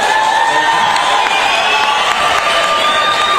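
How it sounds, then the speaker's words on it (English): An audience at a live performance cheers, whoops and shouts in a standing ovation. The roar is loud and continuous and fills the whole stretch without a break. "Wow, a standing ovation for this talent."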